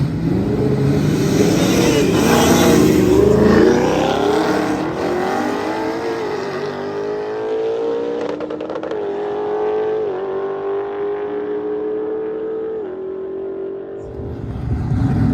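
Street cars at a car takeover in Alabama, engines revving loud and close, a rising roar with shifting pitch as the cars accelerate away, with a continuous engine drone throughout.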